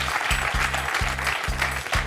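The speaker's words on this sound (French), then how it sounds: "On applaudit Dorian qui est toujours dans la course" Studio audience applause on a French television quiz show, a steady wash of clapping held throughout with a faint low background hum, no speech.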